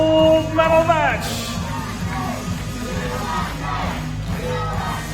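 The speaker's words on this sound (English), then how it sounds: "big cheer there" A crowd at the 2019 World Para Archery Championships cheers and shouts as athletes enter the field for the compound men's open gold medal match, a loud, sustained roar of many voices with yells rising above it.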